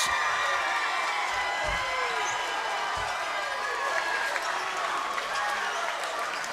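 A basketball crowd cheers and applauds the Leake Academy Rebels as state champions, a sustained, loud wash of voices and clapping in an arena, with scattered squeaks and thumps from the court beneath.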